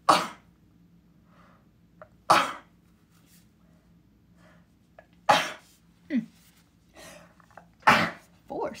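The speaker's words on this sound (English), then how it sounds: "Excuse me, I have to sneeze." Four loud sneezes from one person at intervals, each a sharp explosive burst, with quiet room hush and small throat sounds between them.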